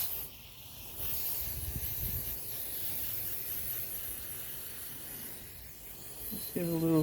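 Cleaner sprayed through a straw into an H/F series oil pump, giving a steady, close hiss that lasts several seconds with slight variations and ends with a brief higher-pitched tone.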